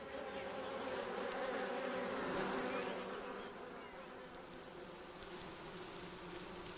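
A dense, steady buzzing of many honeybees inside a hive, a continuous droning hum that swells slightly midway and then settles.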